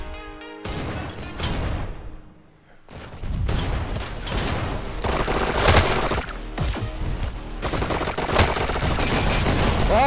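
Rapid automatic gunfire from a favorite weapon in the Quest 2 VR shooter Hyperdash, loud and dense bursts with a brief lull near two seconds, then sustained firing and mechanical clatter throughout.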